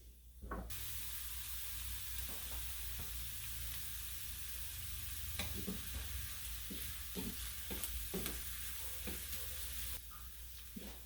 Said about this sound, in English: 2 cloves of garlic, crushed and chopped. And we're going to saute these until they're brown